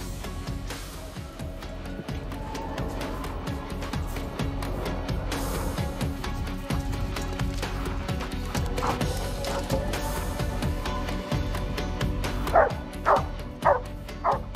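A Malinois search dog in a rescue demonstration with hidden people, its sharp barks and yips arriving late as a quick run of four loud close barks over steady background noise.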